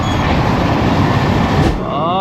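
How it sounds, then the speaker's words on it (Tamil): A passenger train on a Rajasthan rail journey runs at 125 km/h, making a loud, continuous rumble and rattle of wheels and carriage throughout. "ட்ரெயினோட வேகத்தை பாருங்கள், 125 கிலோமீட்டர் வேகத்தில் போயிட்டுருக்கு."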